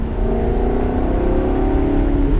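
A Maserati GranTurismo S engine revs hard and holds high revs, a loud, close, steady droning roar with a slowly rising pitch.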